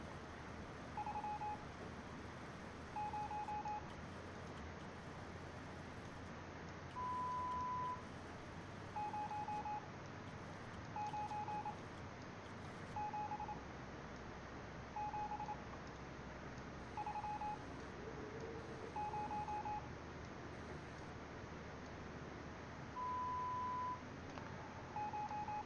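Steady, evenly timed Morse code beeps from the game Stories Untold repeat at a single pitch over a constant hiss, with short and long tones forming a looping pattern and no talking.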